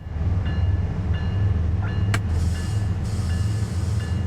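A diesel-hauled intermodal freight train pulls away on Cajon Pass in Train Sim World 3, with a steady low engine drone, faint repeating tonal beeps and a sharp click or two.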